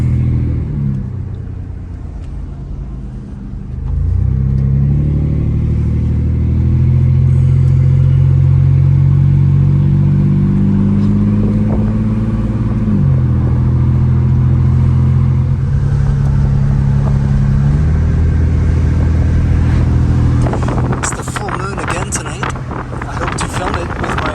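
An old truck with 372,000 kilometers runs while driving, its low engine drone steady and loud from inside the cab, pitch shifting through gear changes, with rattling road noise building toward the end.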